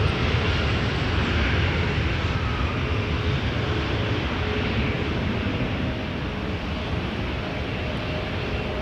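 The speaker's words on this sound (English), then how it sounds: "Rouge 1705 cleared for takeoff to Las Vegas, Nevada on an A321 200." A Rouge Airbus A321-200 taking off at Toronto Pearson, a loud, steady broadband jet roar holding constant for several seconds, heard from a distance with no voices.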